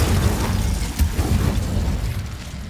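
An Incendio fire spell cast in Hogwarts Legacy, a heavy rumbling burst of flame with a sharp crack near the middle, loud and sustained, fading slightly toward the end.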